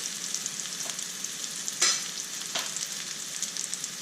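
Onion and garlic, with a pinch of kosher salt, sizzle in a pan at the start of a risotto, a soft continuous fry with a couple of louder bursts as they hit the pan.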